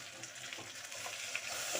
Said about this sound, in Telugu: మిగిలినటువంటి మసాలా కూడా వేస్తున్నాను దీన్ని కూడా లైట్గా ఫ్రై చేస్తాను